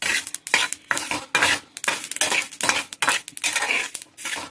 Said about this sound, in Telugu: అలా వేగుతూ ఉన్నాయి నువ్వులు